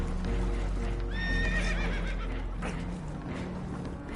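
Spooked horses whinny loudly aboard a holed, leaking boat in the video game Red Dead Redemption 2, a shrill neigh rising over a steady rumble of water and motion, with faint hoof clatter.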